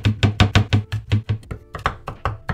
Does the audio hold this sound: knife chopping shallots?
yes